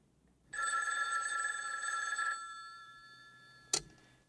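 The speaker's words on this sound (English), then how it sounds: "pick up the phone." An old-fashioned telephone bell rings close and loud in a single long burst of almost two seconds, then fades out. A brief click or sharp knock follows a moment later.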